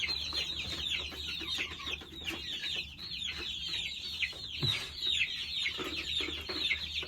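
Young chicks in their first month peep and cluck almost nonstop, a busy chorus of short, high chirps repeating rapidly up close, with a faint low hum underneath.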